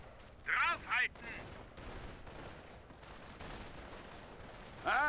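Gunfire in the Company of Heroes strategy game: two short loud bursts close together, then steady battlefield rumble and distant popping, with a third burst at the end.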